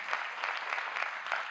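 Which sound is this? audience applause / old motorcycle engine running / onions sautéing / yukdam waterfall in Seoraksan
audience applause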